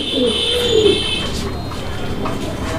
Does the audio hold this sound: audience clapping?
no